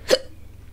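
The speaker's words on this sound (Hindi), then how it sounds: "oh my God, Hichki" A single sharp hiccup, close and fairly loud, followed by quiet background hum.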